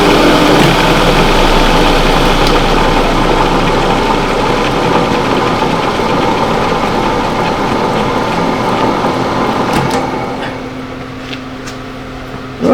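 A grinder runs loud and steady with a dense mechanical drone, then winds down to a lower hum near the end; no talk.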